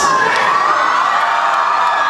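An audience screams and cheers loudly for a contestant at a costume-style show, a dense, continuous roar of high-pitched shrieks and whoops.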